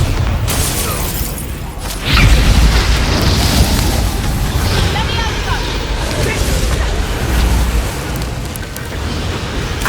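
A Bombarda blasting spell goes off in a Hogwarts Legacy duel: a heavy boom near two seconds followed by a sustained rumbling roar, with battle noise throughout and a second swell around seven seconds.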